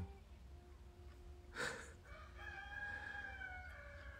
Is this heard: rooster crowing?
yes